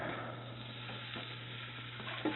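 Pork pieces browning in a pot for green chili give off a steady, low sizzle that holds evenly throughout, with a brief clink of a utensil near the end.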